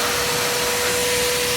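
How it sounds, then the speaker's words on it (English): A HAUSHOF 4-gallon wet/dry upholstery vacuum cleaner, switched back to vacuum mode after its water is dumped, runs with a loud, steady, airy roar and a faint whine, close by and without voices. "Turn the vacuum on."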